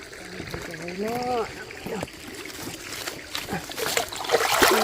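Water rushes steadily over rocks in a stream's rapids, a continuous broadband wash with people talking over it throughout.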